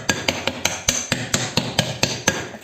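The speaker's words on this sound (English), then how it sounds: "I'm just tapping like where the details are" Tapping on a cast alloy skull cakelet pan to loosen cakes, about a dozen sharp metallic knocks in a steady, even rhythm, close and fairly loud, with no voice.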